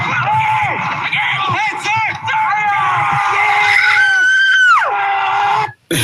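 A person screams repeatedly in loud, rising and falling shrieks, close and strained, with other voices and background noise mixed in around the cries.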